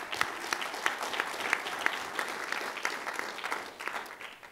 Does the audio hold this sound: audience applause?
yes